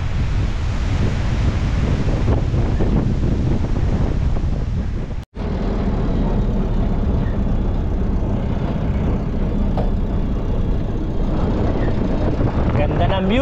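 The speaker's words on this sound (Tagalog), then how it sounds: "Grabe yung hangin, bagyo." Strong stormy wind buffets the microphone on a rough mountain road from Abra, Bangued to Nueva Era, Ilocos Sur, a loud, continuous roar with a brief dropout midway.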